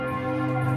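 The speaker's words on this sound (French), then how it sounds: "C'est trop classe les cloches." Church bells ring out over a Christmas market on a cathedral forecourt, a dense sustained wash of overlapping bell tones with no voices, heard only as a brief steady fragment.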